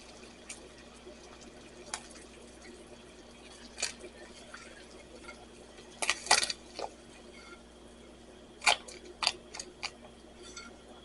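Water boils quietly in a pot for noodles, with sparse soft pops and bubbling over a low background hiss, and no talking.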